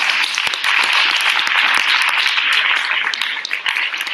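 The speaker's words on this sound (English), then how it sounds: "let's just give her another a round of applause." A live-stream event audience bursts into loud, continuous applause, a dense wall of clapping holding steady for around four seconds with a few sharper individual claps.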